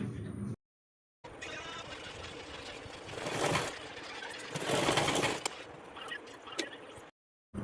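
A sewing machine stitching a nighty, a busy mechanical whirr that builds to louder bursts in the middle, with brief silent gaps at the start and end and some talk in between.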